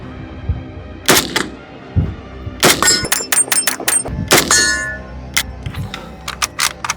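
A Borchardt C93 pistol fires a quick string of sharp, loud gunshots, with metallic clanks of the toggle action cycling between shots and ringing brass, no talk over the reports.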